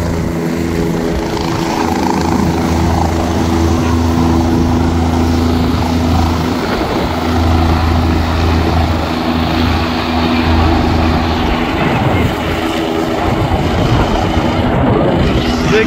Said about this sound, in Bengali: হেলিকপ্টার উড়ে যাচ্ছে।